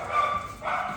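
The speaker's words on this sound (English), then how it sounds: "What are you barking at?" A pet dog gives a single close, short bark, loud and abrupt, with no other sounds around it.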